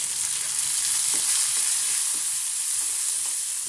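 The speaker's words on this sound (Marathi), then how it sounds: "कांद्याला थोडंसं फ्राय करून घेऊ" Chopped onion frying in a pan for a simple vegetable tiffin dish, a steady close sizzle with soft stirring scrapes throughout, no talking.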